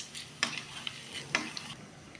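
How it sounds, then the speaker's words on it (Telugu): Chana dal, mustard seeds, cumin and urad dal frying in hot oil for a tomato pickle tempering make a soft, close sizzle, broken by two sharp stirring scrapes. "ఇప్పుడు ఈ తాలింపు అంతా బాగా వేగాలి"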